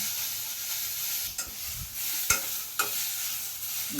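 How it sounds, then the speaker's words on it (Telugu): Green chillies, peanuts and tamarind frying in a pan: a steady, close sizzle with a few sharp spoon scrapes and knocks as the mix is stirred, and no talking. "ఈ కొద్దిగా వేగిన తర్వాత చింతపండు వేస్తున్నా, చింతపండు కూడా వేసేస్తున్నాము"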